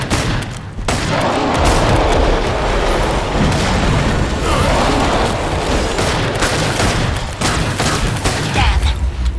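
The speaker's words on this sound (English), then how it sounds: "He's got a flash bomb!" A flash bomb going off during a Killing Floor 2 firefight, a loud sustained burst blended into dense gunfire and booms, a dip near the start, then continuous heavy combat noise throughout.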